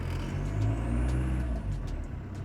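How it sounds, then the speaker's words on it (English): Low, steady rumble of an idling-to-revving Volkswagen TDI diesel engine fitted as a swap, close by and continuous, with a slight rise in intensity partway through and no talking. "and I'll just rev it up here"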